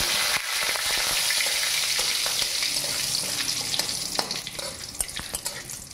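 Two bay leaves drop into hot oil for a cabbage and rice dish, setting off a loud, close sizzle that crackles steadily and then thins into scattered pops toward the end.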